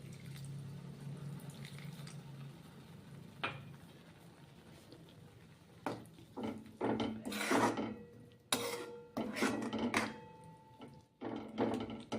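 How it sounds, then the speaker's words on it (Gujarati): Half a glass of water is poured into a fenugreek leaf curry in a pan, giving several short splashing pours and trickles that come close and grow louder toward the end, with no talking. "ત્યારબાદ અડધો ગ્લાસ પાણી એડ કરીશું"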